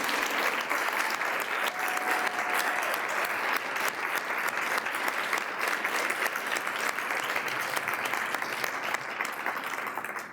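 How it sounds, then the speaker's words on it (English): Audience applause at the 2023 ATHENA Leadership Awards ceremony, a dense sustained clapping from a large crowd, steady and loud for the whole stretch before tapering at the end. "You can now clap."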